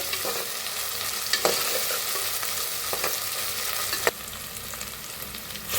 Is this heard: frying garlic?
yes